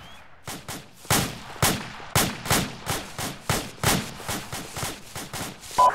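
Rapid bursts of rifle gunfire in the military video game Arma 2, a dozen or more sharp loud shots in an uneven, fast rhythm with a short pause at the start, with no voices.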